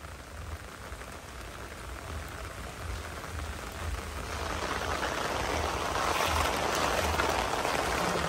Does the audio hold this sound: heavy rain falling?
yes